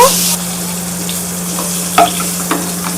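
Pointed gourd (potol) fries in oil in a pan, a loud continuous sizzle with a few sharp scrapes and taps of a spatula stirring the pieces.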